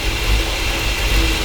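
A Ford F-350 engine that sat for years runs with a steady, close rumble and a deep low throb, a slight uneven pulse in the idle, and no talking.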